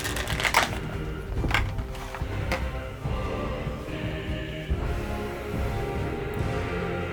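A collectible Totaku figure being pulled out of its small plastic packaging, close crinkling and crackling with a few sharp snaps early on, then softer rustling.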